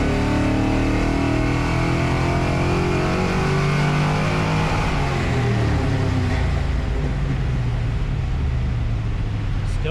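A loud Fox Body Ford Mustang engine with Holley Sniper fuel injection runs at sustained high revs on a dyno, droning steadily before slowly winding down, a continuous roar throughout.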